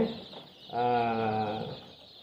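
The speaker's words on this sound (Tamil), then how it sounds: "இது நம்ம சிறுவிடையில் ரெண்டு மாதம் குஞ்சு" Two-month-old native Siruvidai chicken chicks cheep and peep briefly in a short, faint burst, close by and without talking.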